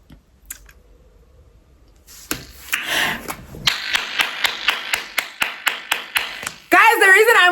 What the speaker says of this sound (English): the reason I'm clapping now